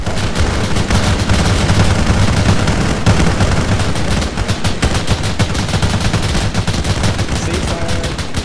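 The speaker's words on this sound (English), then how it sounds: "everyone who does not have a submachine gun, shoot that box." Video game gunfire as several players shoot at a box: loud, dense bursts of rapid automatic shots overlap without pause for the whole stretch.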